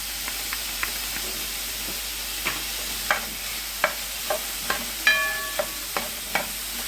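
Sausage sizzles and fries in a pan as minced garlic is added, with a steady hiss and a run of sharp stirring scrapes and taps against the pan, fairly close and with no voices.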